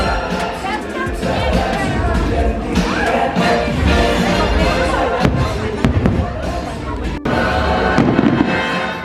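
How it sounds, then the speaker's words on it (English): Fireworks burst loudly at Disney World in a dense, continuous barrage of booms and crackles, with crowd murmur and nearby chatter mixed underneath. "We're watching the fireworks now."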